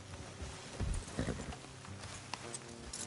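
Horse hooves clip-clop in Red Dead Redemption 2, a few uneven steps close by over a low outdoor rumble, with one louder pair of strikes near the middle.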